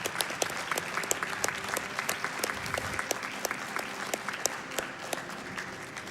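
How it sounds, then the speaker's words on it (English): Sustained audience applause at a charity speedrun marathon event, dense and steady clapping from a large crowd held evenly for several seconds with no talk over it. "give a big round of applause to the people behind the scenes"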